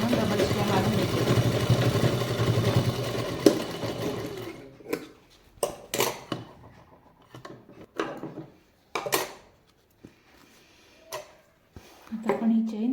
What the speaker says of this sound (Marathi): डबल शिलाई मारून घेते जेणेकरून आपली पर्स फाटायला नाही हवी